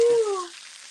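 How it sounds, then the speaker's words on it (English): Meat frying in a pan gives off a short burst of sizzling hiss with a thin whistling tone that slides down and fades within a second; no voices are heard. "It's sizzling, right? We can all hear it."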